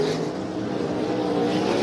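Sprint cars roaring around the dirt oval at Canyon Speedway Park during a USAC/CRA feature race, a loud, steady engine drone filling the moment with no pauses.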